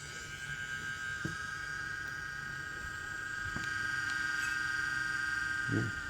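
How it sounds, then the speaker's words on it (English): A small cooling fan in a Parrot ANAFI drone runs steadily with a constant whir and a thin high whine, broken by a few faint clicks. "I hear the fan going, so we're going to turn it all off."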